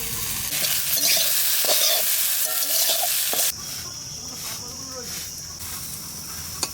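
Taro flowers fry with green chillies in a pan, giving a loud, dense sizzle for about three seconds that then drops to a softer, steady frying hiss.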